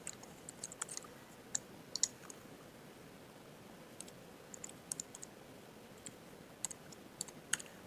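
Login name typed on a computer keyboard, a scattered run of quiet, close key clicks in irregular bursts over a low background hum.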